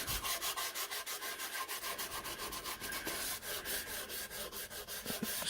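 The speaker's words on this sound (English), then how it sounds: "sanding out divots and dents" Sandpaper rubs steadily back and forth over a muzzleloader's wood in quick, even strokes, a continuous raspy scratching with no voices.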